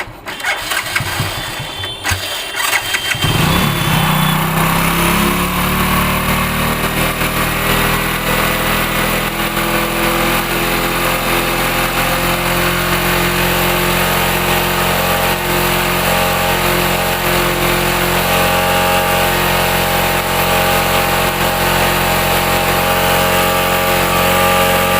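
A Hero Passion Pro motorcycle's small engine, with a starting problem, catches after a sputtering kick start and settles into a steady, loud idle that keeps running with a constant rhythmic drone.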